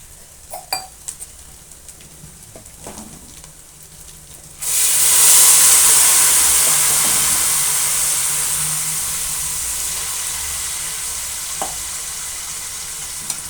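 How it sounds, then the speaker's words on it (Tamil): A sudden loud hiss and sizzle erupts as hot water hits a hot pan while cooking semiya kichadi, then settles into a steady bubbling simmer with faint stirring clinks. "இப்போ நம்ம இருக்கிற தண்ணி சூடு ஏறிட்டு இருக்கிற தண்ணி தூக்கி ஊற்றிடலாம்"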